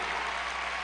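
Audience applause at a convention hall, a dense, steady wash of clapping from a large crowd, continuous and even throughout with no voices standing out.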